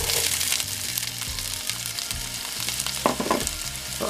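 One medium onion hits a hot pan for broccoli soup, sizzling loudly and continuously up close, with a few scrapes of stirring.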